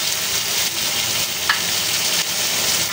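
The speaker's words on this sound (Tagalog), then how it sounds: "Lagyan na po natin yung ating hiniwang kamatis." Sliced tomatoes hit a hot frying pan while cooking catfish in coconut milk with bitter gourd, giving a steady, close, dense sizzle with no voices.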